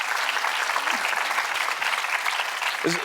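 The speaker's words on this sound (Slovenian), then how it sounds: "vsi pa zaslužimo en aplavz" Studio audience applause, dense and sustained at an even level, with a faint voice and a brief tonal sound breaking in near the end.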